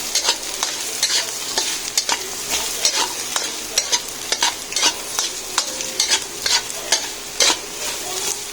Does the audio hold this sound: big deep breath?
no